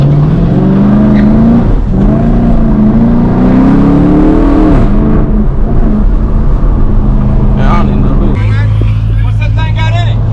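A Dodge with a 5.7-litre engine revs in rising surges close by, then settles into a steady low drone, all under constant loud talk and chatter.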